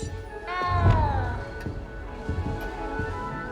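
A cat meows in the video game Hogwarts Legacy: one clear, rising-then-falling meow near the start, followed by quieter clicks and faint background sounds.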